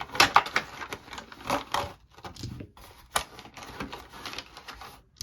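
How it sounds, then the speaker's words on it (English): Plastic dice for the Dice Throne Adventures board game rattle and clatter inside the box, a busy run of sharp clicks and knocks with brief pauses, close and moderately loud. "Bunch of dice in here."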